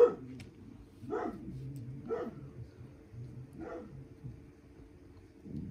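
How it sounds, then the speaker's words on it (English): A dog barks in the distance, four separate barks spaced about a second apart after a brief opening sound, coming through a quiet indoor background at moderate volume with no talking. "dog decided it was the perfect time to go off"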